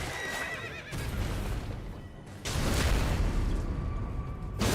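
A horse whinnies and neighs in the video game Elden Ring, with hoof clops mixed into loud battle noise and bursts of sound; no one speaks.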